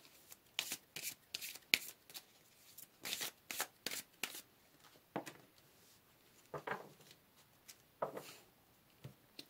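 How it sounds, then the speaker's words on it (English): Tarot cards shuffled and riffled in quick bursts of crisp, papery flutters and slaps, close and clear, broken by brief pauses and a few softer taps as cards are drawn. "Let's pull another card here, group number one."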